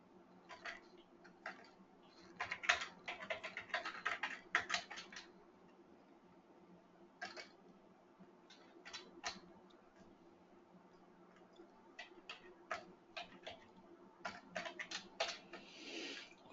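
Bursts of quick keystrokes on a computer keyboard while HTML code is typed, clustered runs separated by short pauses, fairly close and steady with no speech.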